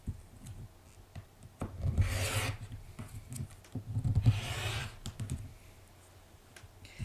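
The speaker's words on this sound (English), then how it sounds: "I'm just going to be trimming off this little extra piece up here." A paper cutter trims a small extra strip off a sheet of paper, giving two soft, scraping slicing strokes with quiet rustling between them.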